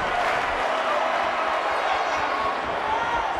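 A wrestling crowd roars with a sustained, loud, dense wash of cheering that runs unbroken throughout and blends with general arena noise.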